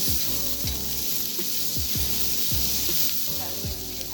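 Garlic fries in very hot oil on a stove for a beef and peppered steak stir fry, giving a dense, steady close sizzle broken by regular stirring scrapes.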